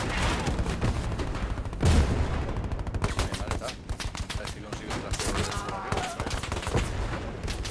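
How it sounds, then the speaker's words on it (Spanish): Gunfire from a tower in the WWII shooter Hell Let Loose: dense, close bursts of rapid shots and rattling automatic fire, continuous and loud throughout, with a heavier blast partway and speech mixed underneath. "te están disparando desde la torre, desde la torre"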